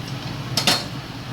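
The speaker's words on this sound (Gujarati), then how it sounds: "હળદરને એકદમ સરસ રીતે હલાવી લઈએ." Turmeric stirred into a cooking pot for kaju gathiya nu shak, a quick pair of metal spoon scrapes and clinks against the pot, close and short over a low background hum, no talking.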